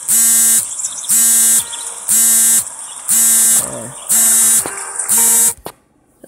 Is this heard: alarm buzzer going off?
yes